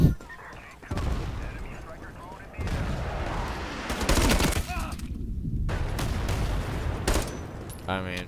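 Rapid gunfire from a 1,000 RPM gun in the online shooter Ironsight, long bursts of dense automatic shots with a few pauses and sharper single reports, with a voice faintly under the shooting.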